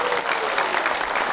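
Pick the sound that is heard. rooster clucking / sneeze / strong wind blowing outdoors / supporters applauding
supporters applauding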